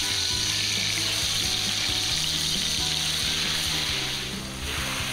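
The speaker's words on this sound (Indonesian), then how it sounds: "Sekarang saatnya kita tumis bumbu-bumbunya sampai matang." Spice paste sautéing in a wok for stir-fried honje (torch ginger) stems, a steady broad sizzle of frying held at an even level throughout, with faint clinks of stirring underneath.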